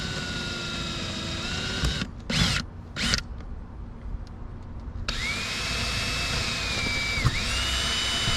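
A power drill pre-drills holes into an RV roof, whirring steadily at close range, dropping out for a few seconds with brief bursts before spinning back up to a sustained high-pitched whine.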